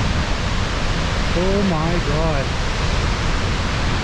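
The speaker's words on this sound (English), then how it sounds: "I know it's probably hard to hear because it's so loud. This waterfall is 500 feet." A 500-foot waterfall roars as a loud, steady wall of rushing water, with a brief exclamation from a voice partway through.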